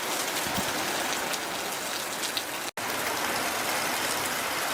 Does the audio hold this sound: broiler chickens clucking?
no